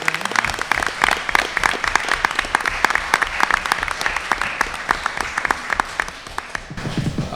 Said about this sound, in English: Let's give him a round of applause for his support of the program.